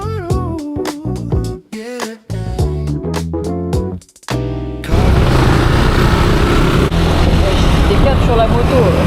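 A motorbike rides along in Bali with a loud, steady engine roar and wind rush. Before it, louder music with a voice plays in choppy bursts.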